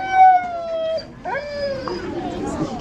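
An excited sled dog at a dog sled club meet in a memorial park lets out a rising howl, then whines and whimpers while a person talks nearby.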